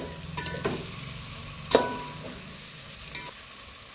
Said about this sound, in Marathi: पण जो बटाटा फ्राय करून घेतलेला तो सगळं मिक्स करून घ्यायचं आहे.